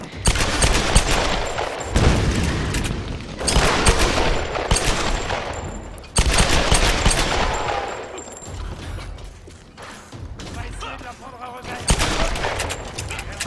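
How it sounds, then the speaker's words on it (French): Rapid bursts of gunfire from the Tomb Raider video game, dense volleys repeating in waves across the whole stretch, loud and close, with a voice barely present beneath. "Je sais pas combien de balles tu peux leur mettre"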